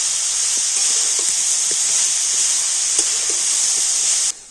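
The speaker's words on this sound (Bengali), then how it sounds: "আর এবার আমি সব কিছু একটু ভালো করে নাড়াচাড়া করে ভেজে নেব" Cabbage stir-fried in a pan gives a steady, loud sizzling hiss throughout, with faint scattered taps of stirring underneath, ending abruptly.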